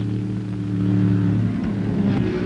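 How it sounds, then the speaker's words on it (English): A Lola Chevrolet race car in Penske blue, driven by Mark Donohue in the opening laps of a 24-hour race, roars with a loud, steady engine drone of strong low harmonics that waver slightly in pitch, with no voices. "Mark Donohue at the wheel of a Lola Chevrolet, decked out in the vivid blue colors of the Penske stable, challenges for the lead in the opening laps"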